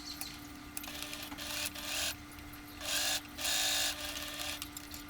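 A domestic sewing machine stitches the back seam of a dress in several short bursts, its fast mechanical whir starting and stopping over a faint steady hum.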